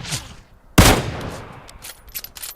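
Gunfire in the video game PUBG Mobile, with one loud sharp shot near the start, followed by a scatter of fainter, distant-sounding shots and a few soft earlier pops.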